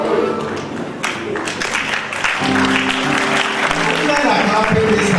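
Men in a church audience clap during a sermon, a loud, dense burst of applause that swells after the first couple of seconds, with crowd voices and a tonal hum mixed underneath.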